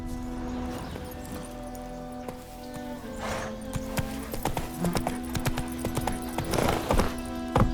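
Horse hooves clip-clop in a steady trotting rhythm in The Witcher 3, close and clear over a faint humming backdrop, with a few louder hoof strikes near the end.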